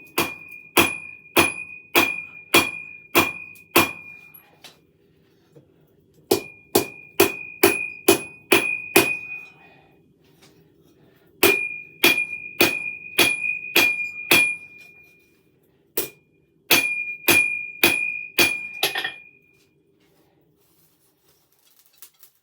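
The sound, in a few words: hammer forging a knife blade on an anvil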